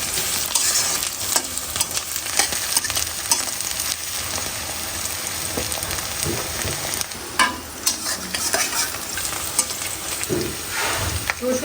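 Bay leaf, black pepper, cinnamon and cardamom frying with onions in hot oil for a chicken curry, a steady close sizzle with frequent scraping and stirring clatter from a spoon against the pan, no talking.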